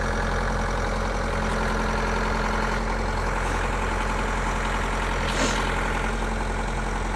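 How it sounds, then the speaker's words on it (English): Kubota LX compact tractor engine running steadily while it is lifted, a loud continuous idling drone close by with one brief higher burst near the end and no talk. "Now I'm going to lift up the tractor nice and gentle."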